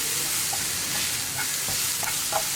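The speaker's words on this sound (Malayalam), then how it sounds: "ഇത്രയും ചേർത്ത് ഒന്നുകൂടി ഇളക്കി ഈ മഞ്ഞൾപ്പൊടിയും ഒന്ന് ചൂടായി വരണം." Curry leaves and turmeric powder are stirred in a hot pan while preparing an elephant yam stir-fry, producing a dense, steady sizzling hiss with occasional light scrapes.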